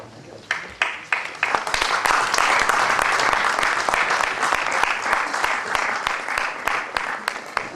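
Audience at a batch reunion event breaks into sustained applause, dense clapping rising quickly after a few early claps and holding steady at moderate loudness, with some louder individual claps standing out.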